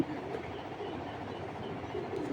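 Pigeon cooing nearby, soft repeated low coos in a gentle rhythmic pattern over a quiet background hum, brief and close.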